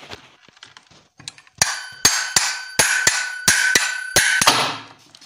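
A hammer strikes metal while freeing the clutch bell of a bush cutter: some light taps, then about eight sharp, ringing metallic blows in a steady rhythm, close and loud.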